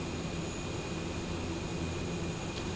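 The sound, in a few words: Shorts 360 turboprop engine in Prepar3D flight simulator video game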